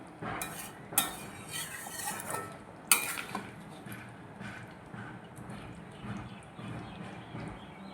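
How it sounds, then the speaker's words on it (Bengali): Oyster curry being stirred in a pot just after hot water went in, a spoon clinking and scraping against the metal in irregular strokes, with a few sharper knocks near the start over a soft, steady background. "এবার একটু ভালো করে নেড়ে নিলাম"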